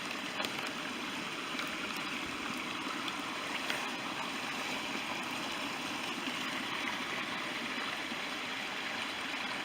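Rainwater running as a fast stream along a normally dry ditch in a wooded park during rain, a steady broadband rushing and gurgling that stays constant and close throughout, with no talking.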